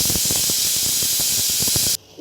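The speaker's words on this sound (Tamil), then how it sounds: "Cooker whistle அடங்கிச்சு." A loud, steady hiss of steam rushing out of a pressure cooker whistle for about two seconds, then cutting off abruptly, leaving near quiet with a faint rustle.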